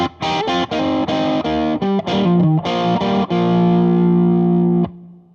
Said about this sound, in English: this brings us to our 3rd technique that we're focusing on today, which is the double stop